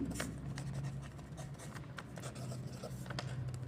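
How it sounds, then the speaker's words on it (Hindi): A pen scratches across paper while writing out a math solution: faint, quick, irregular strokes close to the microphone, with no clear talking. "तो हम यहाँ लिख लेते हैं रूट्स विल बी"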